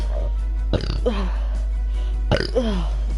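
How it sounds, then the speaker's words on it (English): Two loud, deep burps come about a second and a half apart from a person during a charity livestream, each a short guttural belch with a tonal tail, with quiet room noise between them. "I'm so sorry about all the burping."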